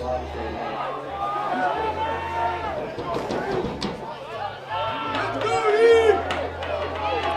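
Crowd at a high school football game, a broad murmur of chatter and shouts rising and falling, with a voice talking over it throughout.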